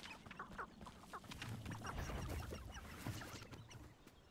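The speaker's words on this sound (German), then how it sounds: "Kein Problem. Hühner." Chickens cluck repeatedly in the video game Hogwarts Legacy, a cluster of short, fairly faint clucks over a steady low in-game ambience, with no talk.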